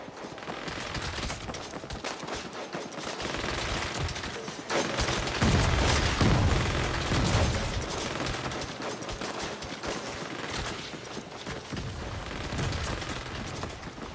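Saints Row gameplay, with a churning mix of gunfire bursts blended into the action and music, somewhat distant and continuous, peaking around the middle and carrying on without talk.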